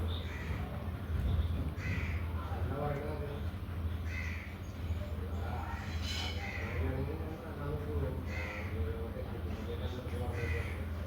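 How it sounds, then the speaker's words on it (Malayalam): Crows cawing around a backyard bird cage where chicks have hatched, harsh repeated caws in irregular bursts over steady low hum, with voices talking at times. "കാക്ക ഭയങ്കര ശല്യമായിരുന്നു"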